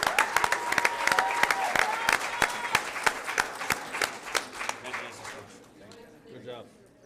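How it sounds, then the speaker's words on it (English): At a school board meeting, an audience applauds students leaving the stage. Sharp, distinct claps from a smaller crowd grow sparse and fade over several seconds, with voices heard beneath them. "One more round of applause as they exit the stage."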